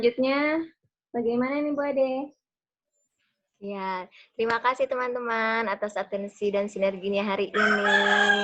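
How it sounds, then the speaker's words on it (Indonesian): A rooster crows in the background at a house while someone speaks in Indonesian over it during a Zoom call, with short pauses between her phrases. "ada ayam yang sedang berkokok"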